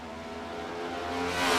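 A race car engine at Watkins Glen, with leaders lapping modifieds, swells from a steady drone into a louder rising roar as the car draws near and passes.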